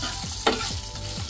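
Two spoonfuls of peanuts roasting in a pan for a green chili thecha, with a close continuous sizzle and crackle and a couple of quick scraping stirs.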